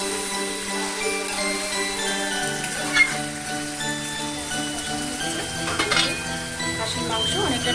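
Mutton being sautéed in a pot for a desi-style curry, with a steady sizzle under repeated scraping and clinking stirs of a utensil against the metal pot, close and fairly loud.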